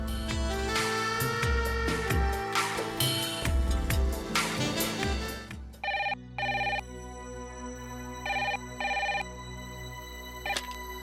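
Telephone ringing in a home setting, a series of short electronic rings in repeated bursts, clear and alone, following a stretch of music.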